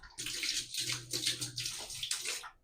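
Tap water runs steadily into a bathtub for a relaxing detox bath, a bright continuous gush of filling water, close and loud, with a low hum beneath and no talking.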